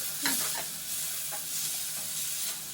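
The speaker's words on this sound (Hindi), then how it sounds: "इसके साथ साथ मैं इसमें टमाटर डाल देती हूँ।" Tomatoes go into onions frying in a pan for pasta, giving a steady hiss of sizzling with the scrape and clatter of stirring close by and no talk.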